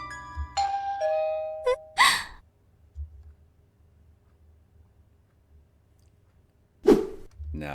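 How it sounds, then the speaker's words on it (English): A doorbell chimes in the Higurashi video game, a clear two-tone ding-dong near the start followed by a breathy sigh, then a quiet stretch and a short gasp-like sound near the end. "Just then, the doorbell rang."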